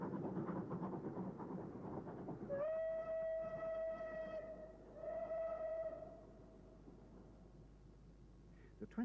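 Clan Line, a Merchant Navy class steam locomotive built at Eastleigh in 1948, rumbles past with its train on a UK line near Conwy, sounding a long two-part whistle over the steady rolling noise; a narrator's voice is faintly present.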